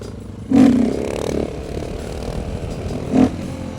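A KTM 690 Supermoto motorcycle revving during a wheelie attempt, a sudden loud burst of engine roar that fades back to a rumbling idle, then a second shorter rev near the end, close by.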